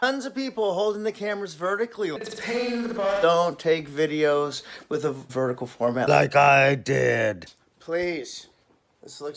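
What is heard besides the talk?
No everyday noise stands out behind the speech.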